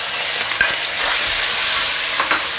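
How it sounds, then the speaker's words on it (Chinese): Shredded pork drops into hot oil in a wok over the highest flame and is stirred apart with chopsticks, giving a loud, steady, close sizzle with a few soft scraping knocks. "我们先下入肉丝"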